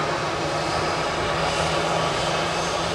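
An ATR turboprop departs Edinburgh for Belfast about 150 yards away, giving a loud, steady engine drone with a faint low tonal hum running underneath.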